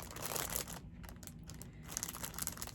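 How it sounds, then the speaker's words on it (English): Close, crisp crinkling and rustling of plastic packaging with a few sharp snips, a quieter pause in the middle, then more crackly handling. "I'm going to just snip it with scissors so it doesn't sound so"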